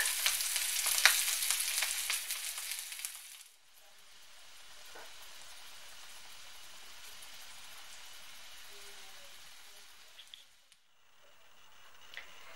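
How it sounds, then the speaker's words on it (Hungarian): Sausage frying in a pan, turned to brown on each side, gives a loud, bright sizzle for a few seconds, then settles into a soft, steady hiss with a faint clatter near the end. "Mindegyik oldalát szép pirosra sütjük."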